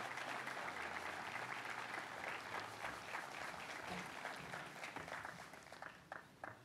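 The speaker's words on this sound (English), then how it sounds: "please give him a round of applause" Sustained applause from a sizable crowd at a university building grand opening, steady throughout and tapering slightly near the end, with a few louder individual claps.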